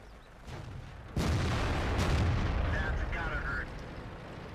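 Artillery shells crash down in a World of Tanks battle, a loud broadband boom hitting at about one second and rumbling on, with a brief whistling tone later, over a steady battlefield din.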